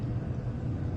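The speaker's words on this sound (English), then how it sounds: "it's lightly thundering outside" Light thunder outside during an indoor makeup session, a low, soft, continuous rumble heard faintly from a distance with no other sounds over it.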